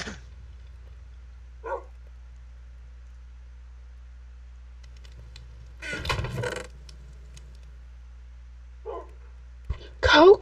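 A pet dog named Coco barks indoors in a few short, sharp bursts spaced several seconds apart, with a louder cluster midway and another near the end over a quiet background.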